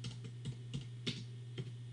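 Computer keyboard typing a web address, a run of crisp irregular keystrokes close up over a steady low hum, with no voices.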